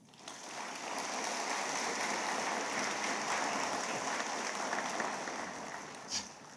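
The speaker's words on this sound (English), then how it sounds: "let's give a round of applause to our teachers." Sustained applause from a crowd at a high school commencement ceremony, a dense wash of clapping that swells and holds for several seconds before tapering off.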